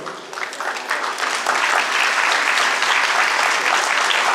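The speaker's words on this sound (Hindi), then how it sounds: "जोरदार तालियों के साथ" Loud, dense applause from an audience rewarding a children's play, a steady wall of many hands clapping close by, building in the first second and holding strong throughout.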